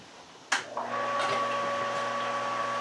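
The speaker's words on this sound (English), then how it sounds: "let me go ahead and pump that over" An electric pump switches on with a sharp click and settles into a steady whine with a high tonal hum while moving brewing water into a mash tun, running continuously and close by.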